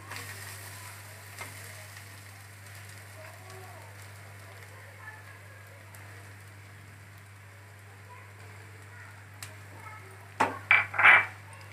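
Ginger and garlic paste fries in a pan with a soft, steady crackling sizzle beneath a low hum, ending in a few louder clattering bursts of stirring.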